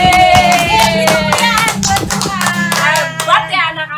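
Children at a Sunday school service clap their hands in a quick rhythmic series of sharp claps, with singing voices and music running underneath.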